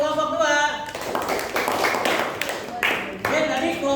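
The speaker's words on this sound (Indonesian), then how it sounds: "Tepuk tangan buat kelompok 2." Classroom applause for a student group, a short burst of students clapping in a room with a voice speaking over the start and end.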